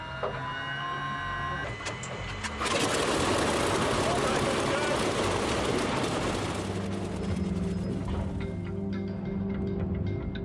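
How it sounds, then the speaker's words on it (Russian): Aircraft engine being cranked with its starter, a whirring mechanical drone that jumps abruptly louder and rougher partway through, then settles into a steady rattling run. "Запуск! Вперед, заводи стартер!"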